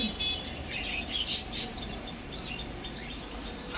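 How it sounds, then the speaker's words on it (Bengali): A cockatiel gives a couple of short, shrill calls near the middle over quiet background noise, with chirps carrying some distance. "আর এই হলো কোকাটাইল"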